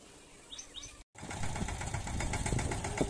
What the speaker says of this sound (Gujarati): જો આપણો નાનું મિની ટ્રેક્ટર છે